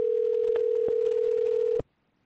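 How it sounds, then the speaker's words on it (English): Telephone tone on an outbound call transferring to a shop line: a steady, even tone holding for nearly two seconds with faint clicks, then cutting off abruptly into silence. "And now it should ring the transfer number."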